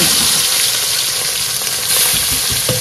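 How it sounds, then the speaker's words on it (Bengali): Fish sizzling and spitting steadily in hot oil in a pan, cooked outdoors at a riverbank in the Sundarbans, loud and close with a continuous crackling hiss and no talking. "এই দেখো প্রথমবারের মাছ কিন্তু ভাজা হয়ে গেছে"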